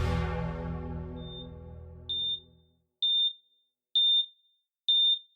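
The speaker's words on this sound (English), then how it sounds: "The 3 of you are awoken by the sound of 3 steady beeps" A series of steady, evenly spaced, high electronic beeps rings out clearly and alone, following a deep, fading musical tone.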